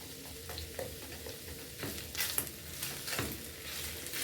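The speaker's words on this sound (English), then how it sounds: "I'm going to add in the onions. Then I'm going to continue mixing until the onions are slightly caramelized or maybe slightly golden." Onions fry in a pan for a beef stir fry, a faint continuous sizzle with soft intermittent stirring scrapes, quiet and close, no voices.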